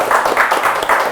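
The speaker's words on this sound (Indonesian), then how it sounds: "Boleh tepuk tangan guys" Audience at a national Robot Process Automation university championship claps in a steady, dense patter of hand claps through the whole short stretch, fairly loud and even with no voices on top.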